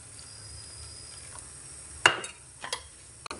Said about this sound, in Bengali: অল্প অল্প দিয়ে নেড়ে চেড়ে দিচ্ছি।